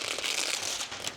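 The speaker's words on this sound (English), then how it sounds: "So we're gonna have to peel this off." Old, failing window tint film being peeled off a car window, a continuous close crinkling, crackling rip for a moment with no talk.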